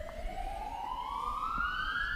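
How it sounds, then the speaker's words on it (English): An emergency vehicle siren wails steadily rising in pitch, faint and distant in the background of an outdoor bowls match in Bendigo. "Hear the sirens in the background."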